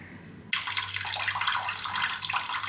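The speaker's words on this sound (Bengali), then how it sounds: "ছানাটা একটা পাতলা কাপড়ে রেখে ছেঁকে নিচ্ছি জলটা।" Water splashes and pours steadily as whey drains from fresh chhena held in a thin cloth, starting abruptly and continuing as a close, bright, irregular trickle and gush.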